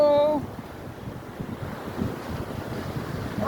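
Ocean surf washing against a rocky shore, heard as a broad rushing roar mixed with wind buffeting the microphone, after a brief whistle-like tone at the very start.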